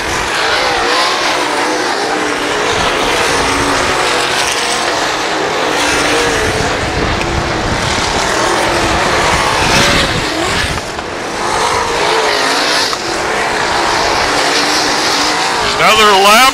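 Race cars roar continuously through turn 4 at Valley Speedway, engines loud and close with tire sliding, while a track announcer talks over the noise.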